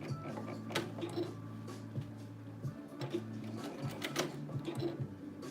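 A sewing machine stitches fabric in short runs, its steady mechanical whir and ticking stopping and restarting several times, heard close and fairly quiet.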